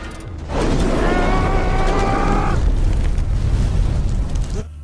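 A loud, deep explosion in the film The Wolverine erupts suddenly and roars for several seconds with rumbling low-end and a tonal whine, then cuts off abruptly.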